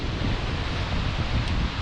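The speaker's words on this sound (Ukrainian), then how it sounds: "сильний вітер, пориви до 14 метрів за секунду" Steady, roaring wind with gusts up to 14 metres per second buffets the microphone with broadband rumble and hiss, surging slightly in gusts throughout.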